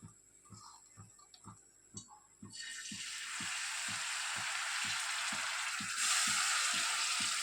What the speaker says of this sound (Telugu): ఈ ఆయిల్లో ఈ ఎండు చేపలని బాగా వేయించుకోవాలి